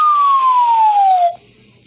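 A loud EAS emergency alarm siren holds one piercing tone that glides slowly downward for over a second, then stops abruptly, leaving only a faint background.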